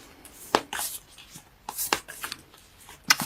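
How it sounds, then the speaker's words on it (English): A single tarot card drawn from a Whispers of Love deck, with soft card shuffling and rustling: several short, close, crisp snaps and slides alone in a quiet room. "let me pull 1 card from Whispers of Love."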